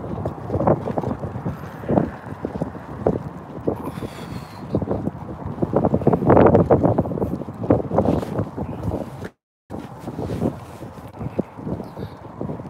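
Gusty wind roars and buffets the microphone in a steady, loud rush, with one brief sudden dropout near the end.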